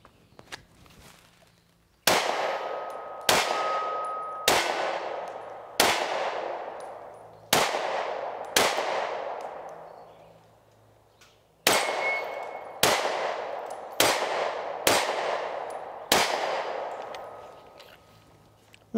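Canik TP9 Elite SC pistol fitted with a Romeo Zero red dot, fired outdoors: about twelve loud, sharp shots in uneven groups, each with a ringing decay.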